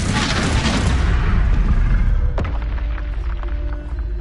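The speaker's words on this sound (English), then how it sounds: "Incendio! Confringo!" A Confringo fire spell blasts in Hogwarts Legacy, a loud booming burst with a rushing roar that fades over a couple of seconds, followed by a sharp second crack and a lingering low rumble and ringing tones.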